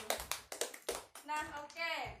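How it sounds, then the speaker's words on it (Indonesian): Children clap in a classroom Islamic culture lesson, a few quick bursts of hand claps mixed with a voice talking over them. "Tepuk tangan untuk Nurul."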